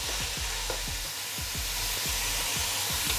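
Chopped onions sautéing in oil in a pan for chicken biryani, a steady close sizzle broken by regular scraping stirs of a spatula, with no talking.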